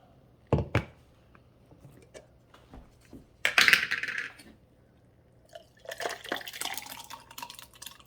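A blended apple-and-ice drink pours from the tall jar of a Walmart Mainstays 6-speed blender: a few sharp clunks, a short splashy burst, then a longer, uneven liquid pour, with no one talking.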